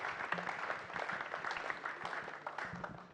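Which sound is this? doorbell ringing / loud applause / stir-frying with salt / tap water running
loud applause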